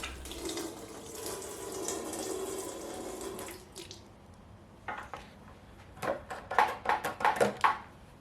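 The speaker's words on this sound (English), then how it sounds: "I'm making sure I just run some sanitizer through that pickup tube to make sure the line is sanitized" Sanitizer liquid runs through a fermenter pickup tube while home brewing a fresh wort kit, first as a steady flowing rush, then as sputtering gurgles and splashy bursts toward the end.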